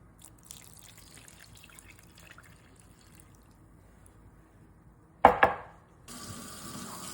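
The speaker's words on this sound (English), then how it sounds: "I'm going to be putting inside some water and make sure your water is warm water" Warm water poured into a bowl for puff puff dough: faint drips and clatter at first, then a short, loud splashing burst of liquid, followed by a softer steady trickle.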